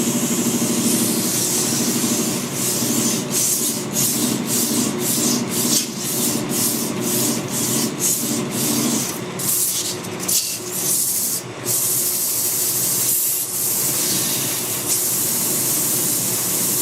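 Abrasive scrubbing of rust from the taper of a lathe chuck on a Harrison lathe, a loud steady rasping with rhythmic back-and-forth strokes that pulse about twice a second, close and continuous with no talking.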